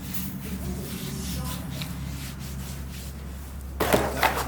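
A rag rubs steadily across the ring gear mating surface of a Jeep XJ Cherokee differential, a continuous scratchy wiping over a low background hum that ends with a louder scuff.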